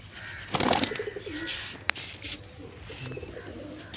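A pigeon, a kept racing or high-flying bird, coos in low throaty bursts nearby, with a short sharp tap midway and light background noise.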